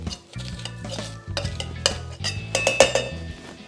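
Mint leaves and ginger pieces are crushed with a muddler inside a cocktail shaker for a gin cocktail, giving a series of close knocks and scraping clinks against the shaker in an irregular rhythm over a low background tone, with no talking.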